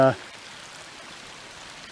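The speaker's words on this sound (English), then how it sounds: "There's a beautiful little stream here." A small stream flows beside a hiking trail on the Knobstone Trail, giving a steady, soft trickle and wash of water that continues evenly after a brief tone at the start.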